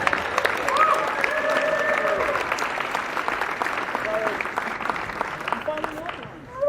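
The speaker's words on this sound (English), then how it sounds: "Give him a round of applause, everybody." A crowd at a juggling festival games event applauds a juggling record, a steady wash of clapping with a little cheering while a voice talks over it.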